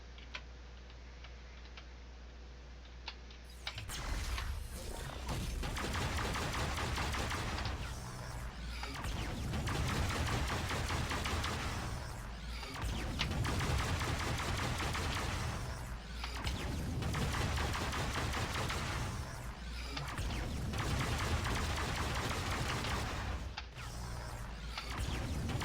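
Star-Lord fires unlimited fire ammo in the game Marvel Heroes, a dense continuous crackle of rapid shots in repeating bursts lasting about four seconds each, with brief gaps between them.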